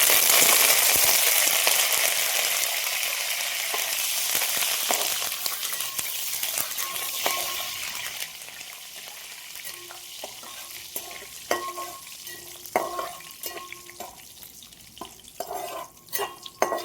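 Curry leaves dropped into hot oil with whole dried red chillies, tempering for tomato dal, sizzle loudly and spit at first, then settle into a quieter crackle with scattered pops and occasional stirring scrapes.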